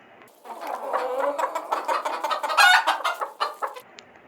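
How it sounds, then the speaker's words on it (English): A hen clucks repeatedly in a rapid, uneven series of close, fairly loud farmyard calls, with brief pauses between bursts. "The hen makes a sound of cluck cluck."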